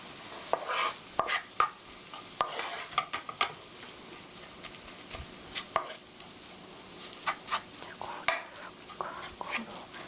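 A utensil stirs scrambled eggs with onions in a frying pan, making irregular scrapes and sharp taps against the pan over a soft sizzle, up close and with no talking.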